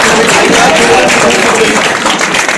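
An audience at a local political gathering gives a loud welcoming round of applause to Ghulam Nabi, a dense wash of clapping mixed with crowd murmur and voices that carries through the whole moment.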